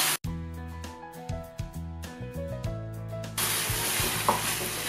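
Chicken stirred in a pan for Thalassery-style chicken biryani, with a tonal musical passage giving way to a steady broadband hiss of frying and sizzling that rises and continues, with light scraping strokes near the end.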